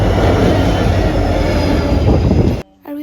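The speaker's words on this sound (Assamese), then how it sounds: "পালেহি আমাৰ ট্ৰেইন।" A passenger train rolls into a station with a loud, steady rumble of wheels and carriages that fills the clip, then cuts abruptly to quieter ambience with a brief high tone.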